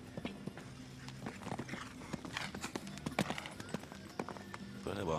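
Horse hooves clip-clop and thud over an eventing show jumping course, with repeated irregular strikes close by and a livelier burst near the end; commentators talk throughout.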